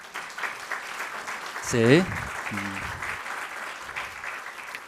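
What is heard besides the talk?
applause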